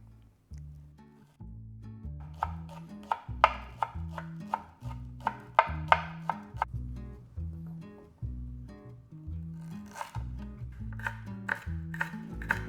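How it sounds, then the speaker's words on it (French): Onion and lemongrass being chopped with a knife on a cutting board, a steady run of close, crisp thuds and taps with brief pauses between bursts, no talking. "Commençons par hacher l'oignon et la citronnelle."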